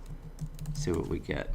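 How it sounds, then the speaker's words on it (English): Keys clatter on a computer keyboard while a search term is entered, a quick run of light taps heard close up before a voice starts speaking over them. "Let's just maybe type that in and see what we"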